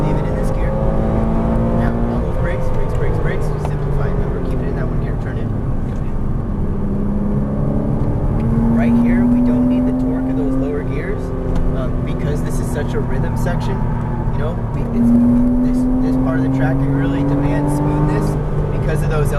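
A Porsche Cayman R is driven on a race track at Exotics Racing in Las Vegas. The engine drones steadily with rising revs and gear changes inside the cabin while someone speaks over it throughout.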